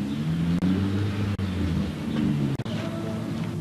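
A car engine runs steadily nearby, revving and rumbling as the vehicle pulls away, with a continuous loud drone and a few brief dropouts.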